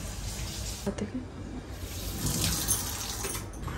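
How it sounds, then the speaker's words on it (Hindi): Water runs from a slightly open kitchen tap into a sink, a steady splashing trickle close by with brief clatters near the start. "नीचे पानी गिराया मैंने इसका नल ना थोड़ा सा खुल जाता है ना तो बस हो जाता पापा पानी गिर जाता है ना"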